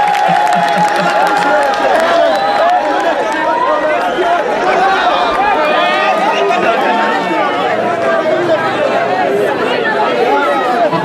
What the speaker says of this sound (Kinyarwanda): turabyemeye kabisa turamutegera mu amashyi menshi cyane